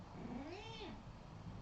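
A pet cat lets out a single drawn-out meow, rising then falling in pitch, close and clear over a quiet indoor background during a livestream, with no speech.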